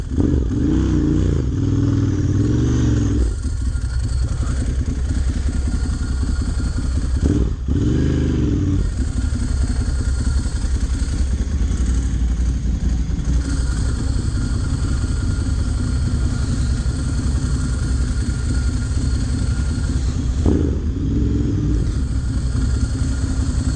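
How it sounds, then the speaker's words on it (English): A 2009 Ducati M1100 Monster revs its exhaust loudly and steadily for over twenty seconds, with sharp blips and deep mechanical clatter rising and falling throughout. "God, I love that exhaust."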